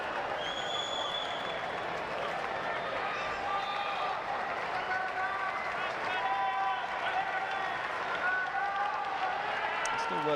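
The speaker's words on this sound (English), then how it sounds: "the Mexican wave going around the centre court" A Paralympic wheelchair tennis crowd around centre court at Rio 2016 applauds steadily through a Mexican wave, a dense continuous wash of clapping and cheering beneath a commentator's voice.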